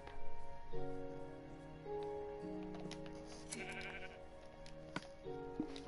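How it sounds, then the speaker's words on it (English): Minecraft sheep bleat in a few short wavering calls at moderate volume, sounding against quiet game ambience with no talking. "there's a sheep"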